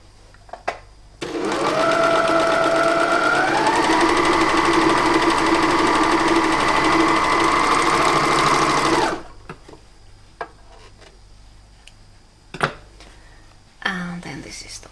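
A sewing machine stitches a shirt sleeve in one long steady run, loud and close, its motor hum shifting pitch partway through before stopping, followed by quieter handling noises and a few knocks.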